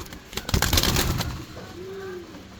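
Fancy pigeons give a soft, low coo alone after a brief burst of rustling and handling noise, the call a single drawn-out note at moderate distance.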